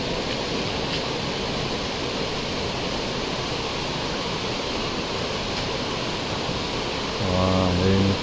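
Waterfall beside the route to the old Tambdi Surla Mahadev temple in Goa, a steady broadband rush of falling water throughout, with a brief tonal sound rising near the end.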